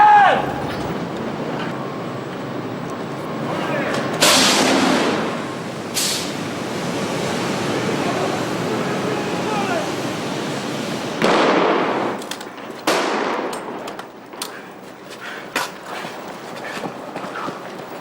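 Special-effects fire on a film set erupts in loud roaring whooshes and bursts that rise and fall over a sustained rumble, with brief sharp flares and some voices in the background.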